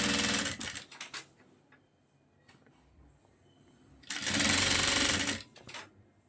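A sewing machine stitches a shalwar belt in two short, loud bursts of rapid whirring, one at the start and one later on, with a quiet stretch of faint handling noise between them.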